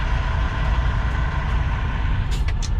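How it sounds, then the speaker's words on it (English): A truck idles right beside the listener with a steady, close, low diesel rumble throughout, and a few short hissing bursts sound near the end. "the guy beside me just decided to start his truck up."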